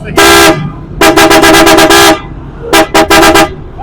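Loud, close vehicle horn blasts: one long honk, then a rapid series of short toots, a pause, and another quick burst of short honks.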